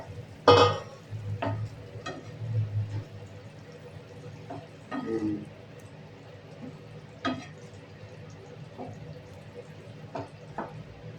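Pointed gourds are added to a pan of frying spice paste for a malai curry, giving a sharp clatter followed by soft sizzling and scattered stirring scrapes and taps, quiet and close.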